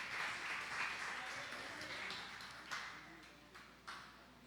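Church congregation at a Sunday morning service clapping, a dense wash of applause that slowly thins into scattered claps, with voices murmuring underneath.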